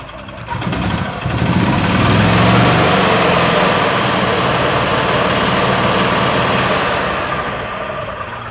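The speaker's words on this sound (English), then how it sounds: "go ahead and spin the engine RPMs up, and we'll watch the clutches" A small E-Z-GO golf cart engine revs up and holds a steady high hum while the drive clutches engage, then eases down, loud and close, no talking.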